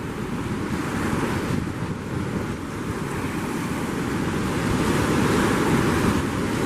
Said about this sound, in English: The waves are pushing hard into the mouth.